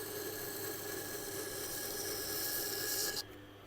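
Knife blade being sharpened on a resin-bonded diamond stone, a continuous close rasping scrape that stops abruptly near the end.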